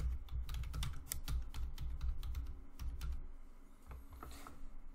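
Rapid clicking keystrokes on a computer keyboard at close range, steady and fairly quiet, with irregular clusters of taps continuing for several seconds and no talking.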